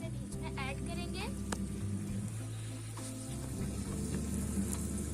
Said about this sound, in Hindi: सब्जी के लिए हमारे पास कटे हुए आलू और कटी हुई ये गाजरें हैं और ये साथ मटर। अब हम इसे बीच में ऐड करेंगे।